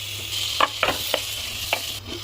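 Tomatoes frying with onions, ginger-garlic paste and turmeric in a pan for gongura chicken, giving a steady sizzle with a few short stirring scrapes over a constant low hum.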